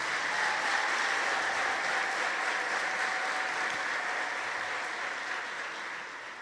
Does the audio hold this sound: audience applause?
yes